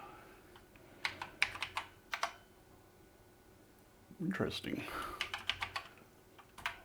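Keys clacking on an old BBC Master 128 computer keyboard with some problematic keys, a burst of separate sharp presses followed by a denser flurry of typing, with a brief spoken word in between.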